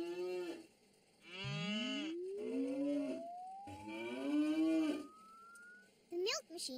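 Several cartoon cows moo in long, drawn-out calls one after another, loud and close, with a rising whistle-like tone sliding upward beneath them.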